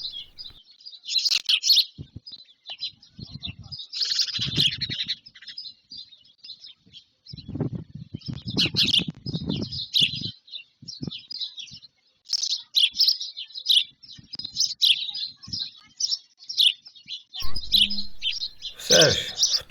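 Young storks give high, thin begging calls in repeated bursts, with intermittent low thumps and rustling beneath them.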